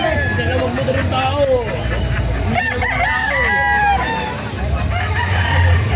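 Roosters crow and chickens cluck at crowded poultry stalls in a pet market, several birds calling over one another at close range with continuous chatter and babble of people around them.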